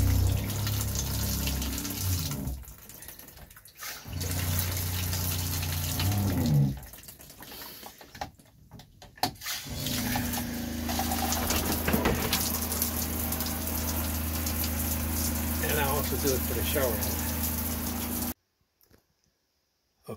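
Pink antifreeze runs from the bathtub shower faucet of a 2016 19 ft Keystone Bullet Crossfire 1900 RD camper trailer, a steady rushing water flow with brief breaks, cutting off near the end.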